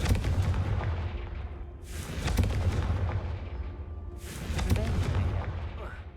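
Two booming blasts from the Confringo explosion spell in a Hogwarts video game, each a loud burst that decays into rumbling debris, spaced a couple of seconds apart over a low game background.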